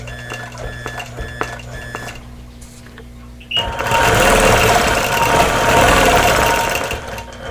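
A quilting sewing machine in stitch-regulated mode, working a Dresden Plate table runner, ticks lightly at first and then breaks into a loud, fast, continuous mechanical stitching rattle that runs to the end.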